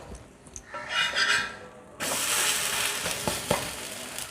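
Adai dosa sizzles and fries on a hot pan just after flipping: a quieter frying hiss gives way to a loud, steady, close sizzle that fills the second half, with a few small crackles.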